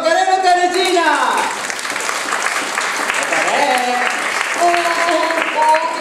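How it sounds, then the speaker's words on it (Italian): Applause from a theatre festival audience, a dense burst of clapping that holds steady for several seconds, with a voice speaking over its start and end. "Facciamo un bellissimo applauso"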